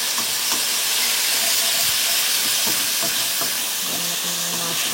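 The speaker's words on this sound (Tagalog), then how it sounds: "Tapos, ilalagay natin ang mushroom." Mushrooms frying and being stirred into already-cooked chicken in a pan, a steady dense sizzle with occasional scraping stir clatter, close and continuous throughout.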